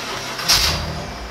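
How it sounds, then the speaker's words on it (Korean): A BMW M series car engine cranks and catches with a brief burst around the middle, then settles into a quiet, smooth idle with low rumble continuing. "제가 시동 한번 걸어볼게요"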